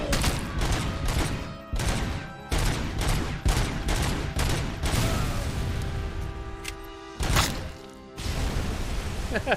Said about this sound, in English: He's got a machine gun.